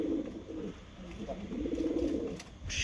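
Pigeons on a home terrace coo in low, rolling, throaty calls, several overlapping murmurs close by with a brief higher chirp near the end.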